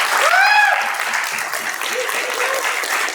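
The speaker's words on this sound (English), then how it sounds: "I wanted to give a big round of applause to everyone that's organized TABConf." An audience at TABConf 2022, a Bitcoin developer conference, breaks into steady applause that holds at an even level throughout, with a few whoops and shouts rising over the clapping near the start.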